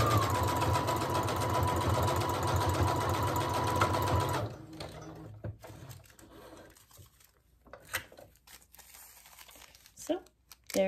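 A vintage sewing machine stitches fabric ruffles in a rapid, loud mechanical whir for about four seconds, then stops, and soft handling of the fabric and rustling follow.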